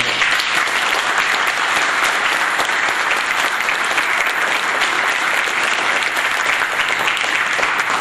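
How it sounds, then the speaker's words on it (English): A crowd at a school board meeting claps steadily and loudly, a dense wash of applause that holds at an even level throughout. "I'd like to give a round of applause for our new building."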